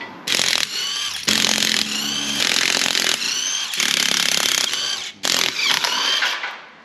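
Loud bursts of a Seesii 1/2-inch impact gun rattling off car wheel nuts, several long whirring runs separated by short pauses, close up and harsh.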